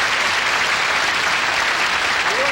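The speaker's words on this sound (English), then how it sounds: "Now you can applaud." A loud, dense wash of studio audience applause for a classic TV comedy program, continuous and even from start to finish with no pause.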